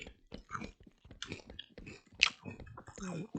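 Someone chews Fritos corn chips up close, giving off irregular crisp crunches and bites with mouth clicks between them and one sharp crunch partway through, during a session of WaW Zombies on PSP.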